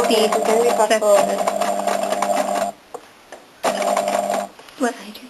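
A sewing machine stitches along the edge of a plush paopu fruit in a steady, loud mechanical whir that runs about three seconds, pauses, then resumes briefly before stopping again.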